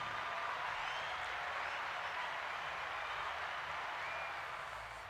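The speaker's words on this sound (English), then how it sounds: "We got a hand claps" An audience at a live podcast taping claps steadily, a dense, even wash of hand claps heard at a distance and fairly faint, with no speech over it, fading slightly at the end.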